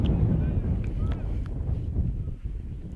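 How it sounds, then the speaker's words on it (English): Wind blows across an open baseball park at night, a steady low rumble of gusts buffeting the microphone throughout, with a few faint clicks on top. "Windy night here at the ballpark."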